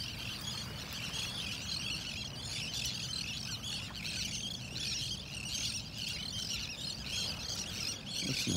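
A dense chorus of birds calling and screeching in the distance on a beach in North Naples, Florida, a continuous high chatter over a low, steady background rumble.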